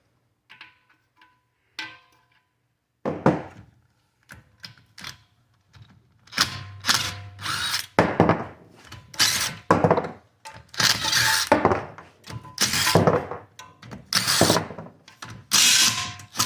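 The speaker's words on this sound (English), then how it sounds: "So, flip this thing over. Get these pan bolts off of here." Metal bolts being worked off the oil pan of a Ford C4 automatic transmission flipped upside down, a run of sharp ratcheting clicks, clanks and thunks close up, starting sparse and becoming dense and continuous.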